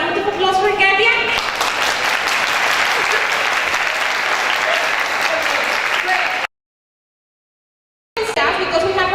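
Steady, dense clapping from a seminar audience for Katia, the speaker at an English-teaching conference, continues for several seconds, drops to a brief total silence, then resumes just as full.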